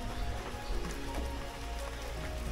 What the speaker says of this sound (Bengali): সেই ভোর রাত থেকে বৃষ্টি শুরু হয়েছে আর থামার নামই নিচ্ছে না।